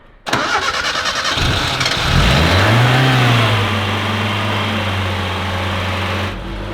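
A barn-find Gemini car engine cranks and catches, then runs and revs up with a rising, falling pitch before settling into a steady, loud idle, close by with no talking.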